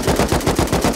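Rapid bursts of automatic gunfire in the survival game Rust, several loud, close volleys in quick rhythmic succession filling the moment with no voices.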